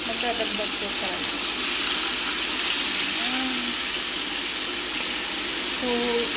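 Salmon sizzles in hot oil in a home kitchen, a loud, steady frying hiss that fills the whole stretch without a break, with a few faint voice traces underneath.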